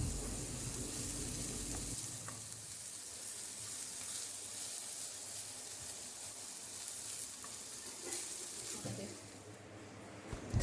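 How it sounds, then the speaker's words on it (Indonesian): Sliced onions grilling in a Teflon pan give off a steady, close sizzle and crackle that runs without a break, with occasional faint stirring scrapes and no talking. "Berikutnya kita juga menyiapkan irisan bawang bombay dan kita panggang juga di atas teflon hingga matang dan berwarna kekuningan."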